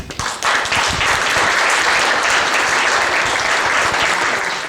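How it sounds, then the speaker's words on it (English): An audience claps steadily at a book launch event, producing loud, continuous applause that swells quickly and holds for several seconds before easing slightly at the end. "let's give a better clap"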